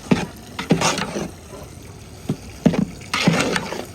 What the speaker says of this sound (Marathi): रवा भाजून झालं, यात पाणी घालायला देतात.